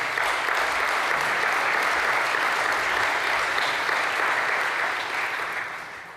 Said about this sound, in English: I think that's a warm applause.